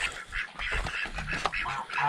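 Ducks quack repeatedly in a busy, overlapping chorus, fairly close, with other farm birds mixed in the background.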